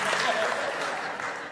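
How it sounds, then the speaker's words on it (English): A large crowd at a live Save Soil event in Turkey claps. The applause is a dense, even roar that sounds somewhat distant and lasts briefly, blending with a voice in the background. "don't clap at my problems."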